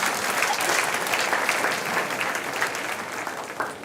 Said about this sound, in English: Give a big clap to all of them.